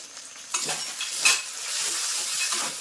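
Ground spice paste for a mutton curry sizzles in a pan while being stirred and turned, a steady close hiss with occasional scrapes and one brief sharper crackle, no speech.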